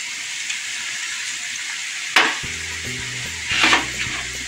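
Chopped capsicum sizzling steadily in a hot pan, with a sharp hiss as the pieces are stirred, a few clinks of a utensil, and another burst of sizzling.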